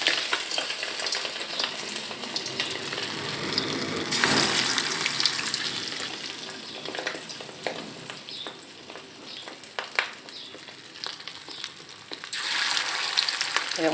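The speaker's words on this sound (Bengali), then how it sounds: "এরকম মৃদু আঁচে এপিট ওপিট সুন্দর করে ভেজে নিতে" Fish roe chops frying on low heat in a pan, a continuous dense sizzle and crackle with occasional spatters and brief surges, close and loud with no talking.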